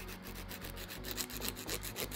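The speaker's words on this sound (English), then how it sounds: "you're going to shape your nails" A nail file rasps rhythmically across fingernails while shaping them, quick back-and-forth strokes at close range, soft and steady.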